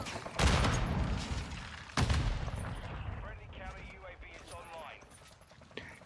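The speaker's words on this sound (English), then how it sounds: "Who's shooting at me?" Two loud, sharp gunshot bursts from the Modern Warfare II video game punch through early on, then fade into quieter game noise while voices chatter underneath.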